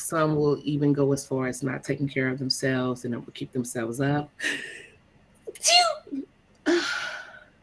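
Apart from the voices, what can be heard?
sneeze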